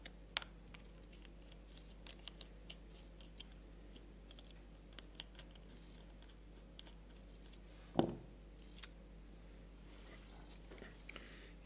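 Screws being undone on the back casing of a HobbyKing 401 gyro: faint, scattered small clicks and ticks close by in a quiet room, with one louder scrape partway through.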